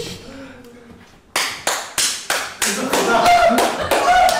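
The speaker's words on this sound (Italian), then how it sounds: "Un applauso!" Sharp, loud claps ring out in a quick irregular series of about ten, starting after a quieter opening with faint voices, during a light-hearted Italian talk show segment.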